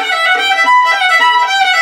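Irish fiddle playing the Tarbolton reel at full tempo, with quick bowed triplets (trebles) rippling through a bright, continuous run of notes, heard alone and up close.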